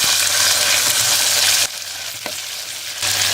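Onions dropped into hot oil with mustard seeds, cumin, garlic and green chilli, giving a loud, dense sizzle that dips briefly midway with a small clink, then surges again, close up.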